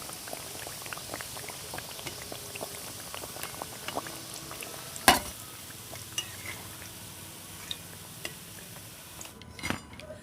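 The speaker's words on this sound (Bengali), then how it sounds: "দেখুন ঠিক একইভাবে বাকি কুকিজগুলোকেও ভেজে নিচ্ছি" Chocolate-filled cookies fry in hot oil with a constant bubbling sizzle, broken by scattered clicks from utensils and one sharp clatter partway through.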